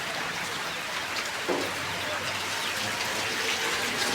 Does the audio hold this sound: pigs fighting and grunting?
no